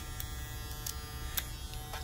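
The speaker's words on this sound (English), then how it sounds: "the model is 50 cal. It's actually a very nice clipper. It's very quiet. It's a magnetic motor." A Caliber 50 cal hair clipper with a magnetic motor runs with a steady, fairly quiet electric buzz and hum, with a few faint clicks over the constant drone.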